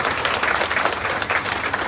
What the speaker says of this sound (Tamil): எழுந்து நின்று நாம் அனைவரும் மனமாற கைத்தட்டி வாழ்த்தி அவர்களுக்கு நாம்